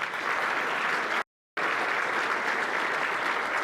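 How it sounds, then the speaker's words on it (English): A school awards audience claps steadily in a full, even round of applause, broken by a brief cut of silence before resuming at the same level. "So let's give them a big round of applause."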